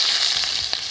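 Onion dropped into hot oil with dried red chilli and cumin seeds tempering, giving a brief, bright, steady sizzle with a couple of small pops.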